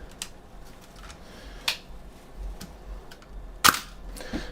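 A camera shutter in a studio session fires with two sharp, close mechanical clicks, the second louder, among a few fainter ticks over a quiet room hum.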